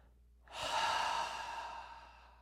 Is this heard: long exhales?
yes